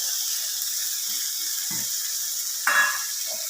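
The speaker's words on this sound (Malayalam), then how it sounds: "അതിലോട്ട് ഈ പയർ ഇട്ട് കൊടുക്കുകയാണ്." Cowpeas sizzle in hot oil in a pan with a constant, bright hiss. A few soft knocks sound as they are stirred, and a louder splash of sizzling rises briefly near the end.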